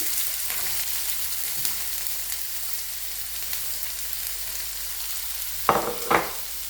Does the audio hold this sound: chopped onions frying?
yes